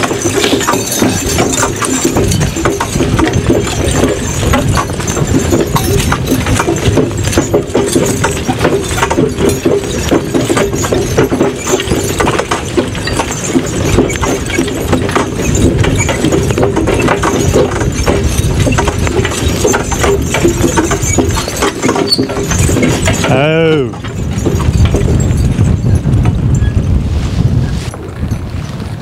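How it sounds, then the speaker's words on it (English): Steady clip-clop of three Suffolk Punch horses' hooves in a hitch together, continuous and rhythmic, under strong wind buffeting; a voice briefly exclaims near the end. "our 3 Suffolk Punch horses in a hitch together for the first time ever"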